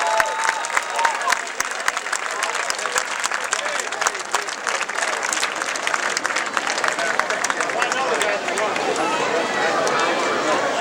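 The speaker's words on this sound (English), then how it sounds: "Ladies and gentlemen, let's give them a big round of applause." Dense crowd applause at a Painesville Speedway race night, steady and fairly loud for about ten seconds with scattered cheers and a voice over a public address system.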